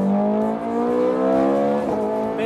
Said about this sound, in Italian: per sentire proprio il motore quando entra in coppia, quando spinge e come girando tra i 7500 e gli 8500